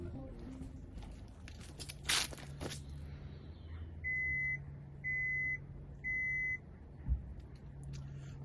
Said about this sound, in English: We can now close the boot, from inside the car